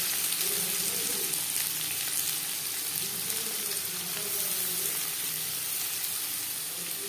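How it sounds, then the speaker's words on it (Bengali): Chopped onions frying in a few spoonfuls of hot refined oil for snake gourd fry, a steady, even hiss of sizzling that holds at moderate loudness throughout. "4-5 চামচ রিফাইন্ড অয়েল গরম করে নেওয়ার পর দিয়ে দেবো পেঁয়াজ কুচি"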